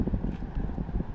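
Strong wind roars outdoors in the rain, a dense low rumble buffeting the microphone with constant gusting and no pauses.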